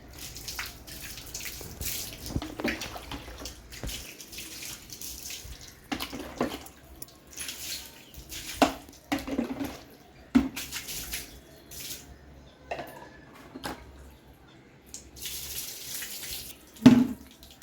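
Water poured and splashed while a dog is bathed and rinsed after shampooing, a series of irregular close splashes and trickles with quiet gaps between them.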